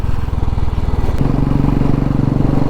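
Motorcycle engine revving up close on a ride, a loud throbbing idle that shifts to a steadier, higher drone partway through.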